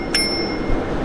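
A single quick ring of the bicycle bell on an Eleglide M1 Plus e-bike, a bright metallic ding with a lingering ringing tone, heard close and alone over faint background hum.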